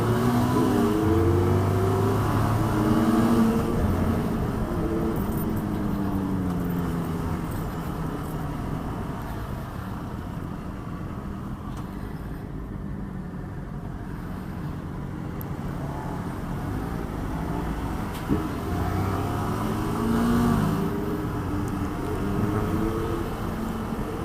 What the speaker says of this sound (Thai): เหมือนได้ยินเสียงสีสูบอยู่ข้างหลังนะ ถ้าเดาไม่ผิดน่าจะเป็น CB ไม่งั้นก็ CBR